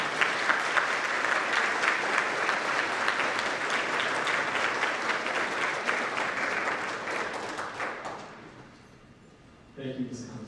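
Audience at a community college awards ceremony applauding an art award winner, sustained dense clapping for about eight seconds that then fades out, followed by a voice speaking.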